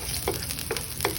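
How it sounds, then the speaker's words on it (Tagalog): Garlic sautés in a pan with a steady, close sizzle and light crackling, plus a few soft stirring scrapes over just over a second. "We're gonna saute the garlic."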